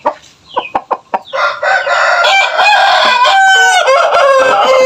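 Several loud clucks from nearby fighting chickens lead into a long, strained rooster crow, with overlapping calls layered close together.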